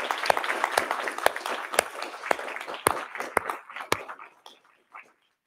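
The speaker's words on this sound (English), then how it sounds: "So can we have a round of applause for Jay?" Scattered applause from an audience at a talk on religious nationalists in the age of Lincoln, sharp individual claps standing out from a thin patter that thins and fades away after about four seconds.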